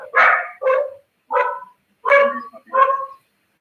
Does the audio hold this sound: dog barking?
yes